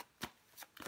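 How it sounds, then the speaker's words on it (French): Tarot cards are handled and laid face down: three soft, quick swishes and slaps of card on card, faint and close, with quiet between them. "Je vais recouvrir les cartes"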